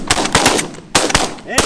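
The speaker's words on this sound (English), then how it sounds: "Shoot him, Andre." Several shotguns fire in quick succession at ducks during a hunt over a dry field, producing loud sharp blasts close by with brief gaps between them.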